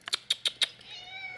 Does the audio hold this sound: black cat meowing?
yes